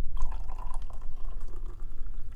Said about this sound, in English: So I can pour my perfect cup of tea.